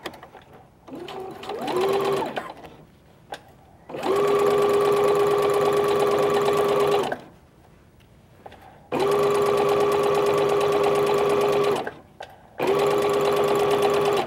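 A sewing machine stitches a welt pocket in three long, steady whirring runs separated by pauses, with short bursts and a few clicks at the start.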